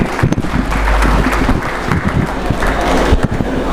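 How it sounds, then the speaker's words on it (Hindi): Audience at a school teachers' seminar in Sahibabad claps to welcome the school principal, a loud, dense burst of applause with sharp individual claps close by, no talk over it. "तालियों से स्वागत कीजिए।"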